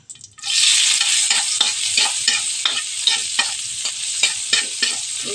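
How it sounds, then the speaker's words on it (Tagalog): Garlic and onion sizzle steadily in hot oil in a pan, the first step before adding pork, with the spoon scraping and stirring rhythmically throughout. The frying is close and loud. "ngayon, igigisa na natin yung pork. Una, ilalagay muna natin yung ahos at sibuyas."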